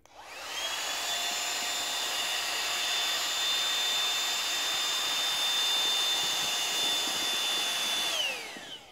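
Tire pump inflating a sleeping pad whines and hisses in one steady, loud, continuous run of about eight seconds, starting abruptly and cutting off at the end, with no speech.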